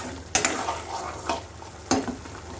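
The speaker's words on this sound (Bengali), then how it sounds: "মশলাটা কষানো হচ্ছে" Spice paste sautéed in a pan for a Bengali bhindi dish, a close, gentle sizzle broken by three sharp scraping stirs of a spatula against the pan.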